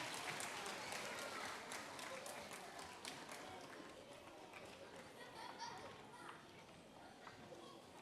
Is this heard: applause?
yes